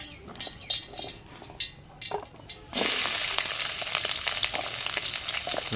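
Pumpkin pieces drop into hot oil in a pan for Bengali shukto. After a few soft clinks, a loud, continuous frying sizzle bursts in and holds steadily at close range, with no voices.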